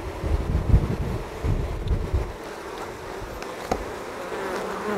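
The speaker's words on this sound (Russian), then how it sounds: "И смотрим, как пчелы принимают матку." Buckfast honey bees swarm around a newly released queen on a hive frame, making a steady close-up buzz. Gusts of wind hit the microphone, strongest in the first half.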